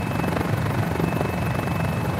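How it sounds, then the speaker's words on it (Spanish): A Revolution Mini 500 single-seat turbine helicopter flies over Rome in autorotation, heard from on board as a steady, loud rotor and engine drone. "nos encontramos en autorrotación a bordo de este Revolution Mini 500, helicóptero monoplaza de turbina"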